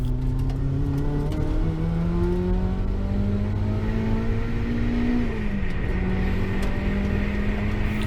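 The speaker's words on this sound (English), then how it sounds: "On board with Adam as he boosts down the start-finish straight" A rear-wheel drive Mazda sports race car accelerates hard down the start-finish straight at Manfeild, engine droning loud and close with rising pitch, dipping briefly at a gear change before climbing again.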